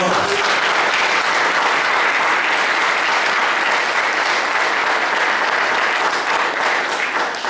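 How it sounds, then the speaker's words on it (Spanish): A church congregation gives loud, sustained applause, dense and unbroken clapping that fills the space for several seconds before easing slightly at the end. "Denle fuerte aplauso al Señor"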